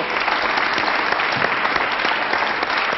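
A studio audience on a French television talk show breaks into sustained, dense applause, loud and steady from start to finish with no voices over it.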